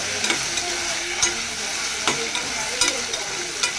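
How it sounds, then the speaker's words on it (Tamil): Onion and tomato gravy for pepper chicken sautés in a pan, a soft continuous sizzle broken by sharp rhythmic scrapes and taps of a spoon stirring every half second or so, close and without talk. "பெப்பர் சிக்கனுக்கான கிரேவியை தான் இப்போ வதக்கிட்டுருக்கோம்."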